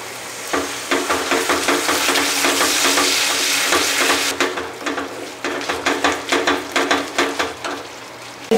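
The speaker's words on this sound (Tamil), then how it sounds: "இங்கே ரெண்டாவது பால் விட்டு கொஞ்ச நேரம் கிண்டிகிட்டு இருக்கணும்." Nendran banana payasam is stirred in a pan after the milk goes in, with sizzling bubbling and repeated scraping strokes of the spoon, steady at first and then turning into a rhythmic series of distinct scrapes, close and loud.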